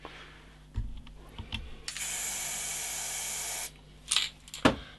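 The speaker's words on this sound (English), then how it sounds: "So I've just sprayed some of that spray paint on the plate." Spray paint hisses from a can onto a plate in one steady burst of nearly two seconds, framed by small clicks and taps before and after.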